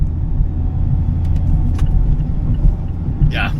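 A Mazda Miata RF's four-cylinder engine drones steadily while driving, a constant low rumble filling the cabin with faint road noise and a brief higher whine near the end.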